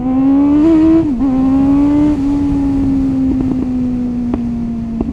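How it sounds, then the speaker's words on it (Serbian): A motorcycle engine drones while being ridden through Belgrade, a loud, close, steady tone that lifts slightly early on, then settles into an even hum with a few faint clicks. "Kako ide motor, kako je dobar"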